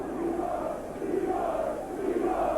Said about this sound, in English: the crowd going wild as soon as Leroy picks up the football